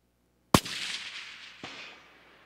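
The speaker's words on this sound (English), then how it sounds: "All right, rebolt the gun, fire again." A single loud precision rifle shot fired from a bipod, one sharp blast with a long rolling echo, followed by a fainter distant impact report about a second later.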